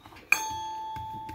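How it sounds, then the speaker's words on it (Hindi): A doorbell chimes once in a home, a sharp bright strike followed by a long sustained ringing tone that slowly fades, with faint household noise around it. "घंटी बजी टन"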